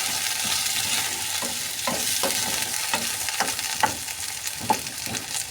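Fishballs frying in oil in a pan, a steady sizzle with light stirring scrapes and soft clinks every so often, close and continuous with no voices.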